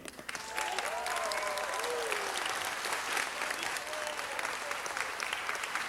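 Audience at a city council meeting claps hands in sustained applause, dense and steady after a brief start, with voices and shouts mixed into the crowd noise.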